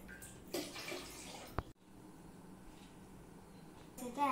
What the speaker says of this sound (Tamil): இந்த ஆறு கச்சடியிலும் தண்ணீர் நிரப்புங்கள்.